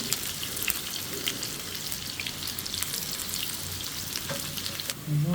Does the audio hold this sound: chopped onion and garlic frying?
yes